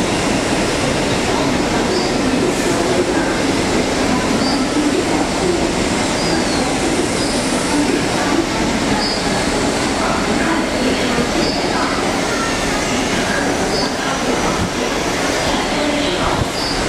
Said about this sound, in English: A non-stop train is passing through the station.